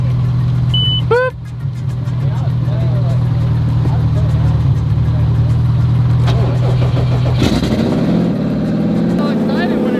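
A Subaru WRX STI fitted with a built H6 engine cranks and fires up near the listener, settling into a loud, steady idle with a couple of revs, while people talk over it.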